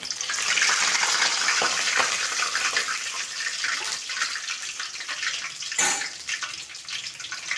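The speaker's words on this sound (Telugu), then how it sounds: "బిర్యానీ ఆకుతో పాటు అల్లం వెల్లిపాయ పేస్ట్ అనేది మంచిగా ఆయిల్లో ఫ్రై చేసుకోవాలన్నమాట" Ginger garlic paste and bay leaf frying in hot oil, a loud steady sizzle and hiss that eases slightly, with a brief sharp flare near the end.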